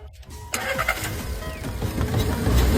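A car that had failed to start at night cranks and fires, its engine catching after a short starter whirr and settling into a loud, steady, gradually swelling idle up close, with no one talking.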